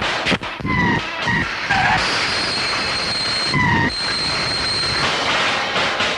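Trains rumble and clatter along the rails with sharp metallic squeals and hissing, loud and close, the screeches coming in short bursts.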